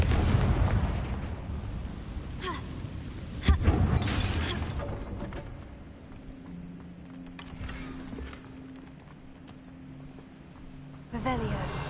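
Confringo blasting spell in Hogwarts Legacy: sharp explosive bursts with cracking impacts near the start and middle, fading into a lingering hum, with a voice speaking.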